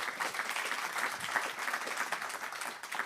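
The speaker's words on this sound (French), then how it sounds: "on peut déjà vous applaudir" An audience at a Paris talk on ion-beam space propulsion applauds, a steady wash of many hands clapping at moderate distance with no talk over it.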